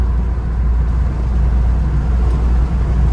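A 1986 Dodge Daytona Turbo Z cruises in fifth gear with T-tops, a steady loud low engine drone and road rumble from inside the cabin, with no talking.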